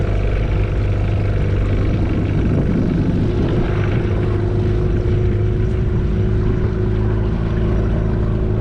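An outboard-powered dinghy motors across a harbour toward a dinghy dock at a bar, its engine a loud, steady, close drone mixed with wind and water rush.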